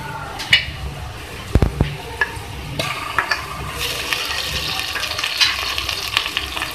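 Ginger garlic paste sizzles and fries with onions in a pan, with stirring scrapes and a few clanks, fairly close, with a voice speaking briefly.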